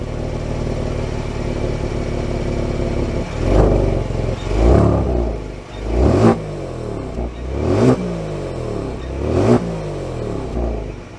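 A 2022 Genesis G70's engine revs up in repeated rising surges, several strong pulls building as the car gets going, loud and close with no talking.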